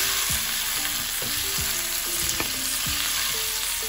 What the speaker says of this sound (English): So I'm going to let that fry up along with the potatoes and onions.